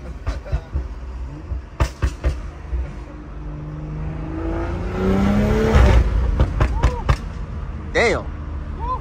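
Stage 2 BMW M340i making about 650 horsepower pulling hard, engine revs rising loudly through the gears with sharp pops and crackles between shifts, and occasional talk from people inside the car.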